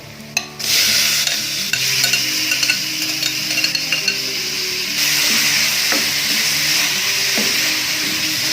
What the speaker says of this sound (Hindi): फ्राई करेंगे चिकन को अच्छी तरह, तकरीबन 4-5 मिनट के लिए इसको फ्राई करना है।